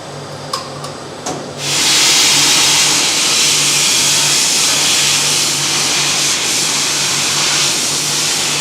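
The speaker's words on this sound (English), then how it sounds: "it's going into the shot blaster now" A shot blaster roars into a loud, steady blasting hiss while it works on a brake caliper with its bore masked and bleeder and hose inlet plugged, starting after a few brief clicks and knocks.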